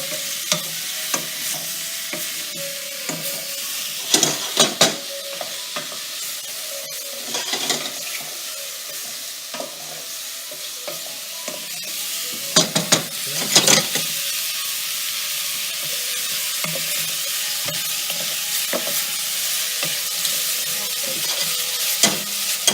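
Onions and mushrooms fry in a hot pan for a mushroom risotto, giving a constant sizzle broken by a few sharp scrapes and clatters of stirring, with no voices.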